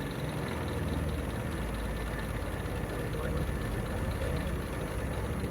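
A 1953 Lyman Islander boat engine idles at low speed, a steady, dense rumble that runs unbroken and fairly loud from start to finish.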